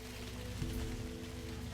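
Rain patters on a surface in a video game scene, a soft, steady, faint hiss with a low wind rumble beneath and no talking.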